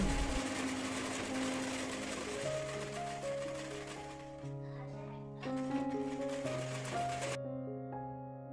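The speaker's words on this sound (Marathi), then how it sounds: "कॉर्नरला आल्यानंतर जरा हळूहळू शिलाई मारायची, व्यवस्थित टर्न करायचा आणि अशा पद्धतीने कंटिन्यू करायचं." A sewing machine stitching blouse fabric for a katori blouse, a steady mechanical whir running under a background music track, pausing briefly before continuing.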